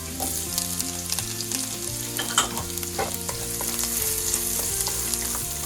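Ginger and garlic hit hot oil in a pan and sizzle loudly, crackling steadily while a utensil stirs and scrapes with several sharp clicks.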